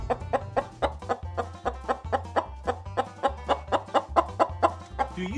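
A person imitates a chicken clucking, producing a quick, regular string of about fifteen sharp clucks, close and clear with no other talk.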